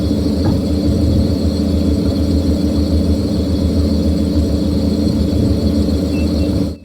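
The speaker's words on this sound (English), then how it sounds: "you have the most annoying sounding vehicle known to man." Vehicle in the Tornado Research and Rescue video game with a loud, steady droning engine hum and rumble that runs unbroken, then cuts off abruptly at the end.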